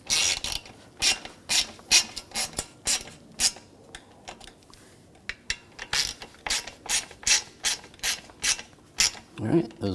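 Ratchet clicking in quick repeated bursts while bolts on a Volkswagen Jetta AC condenser are tightened, sharp close-up pawl clicks in rhythmic strokes with brief pauses between.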